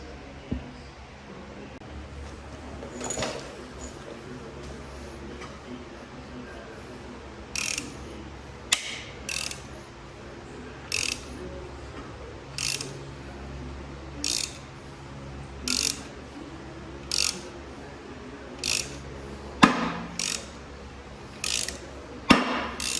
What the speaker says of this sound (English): it looks like it just uses a 3/8 ratchet to tighten it down